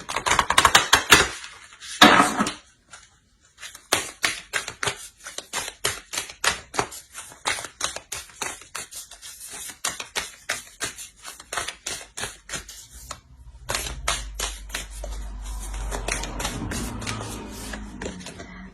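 Oracle cards are shuffled in a rapid run of crisp riffling snaps, many quick clicks in a row, close and fairly loud, with a brief pause partway and a low rumble joining near the end.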